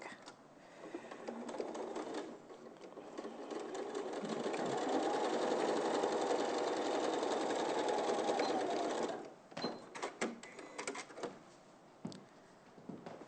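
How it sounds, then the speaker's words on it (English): A sewing machine runs fabric through with a quarter-inch seam, starting with short bursts, then a sustained steady whirring stitch for several seconds, ending in a few brief stop-start runs, close and fairly quiet. "So I'm just sewing with a normal 1/4 of an inch."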